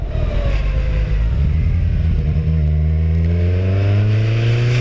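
A Kawasaki Z1000 motorcycle engine revs hard with the throttle opened wide, a loud close roar whose pitch climbs steadily and smoothly across the run.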